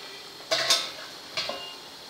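A lid set on a pan of pav bhaji vegetables cooking on the stove, two short close metallic clanks about a second apart over faint low cooking noise.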